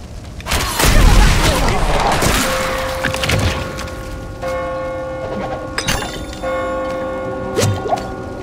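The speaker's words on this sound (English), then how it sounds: "The bells again." Church bells ringing in the Diablo 4 video game (2023), loud resonant tolls with long sustained ringing tones over game sound effects and crashes, no talking.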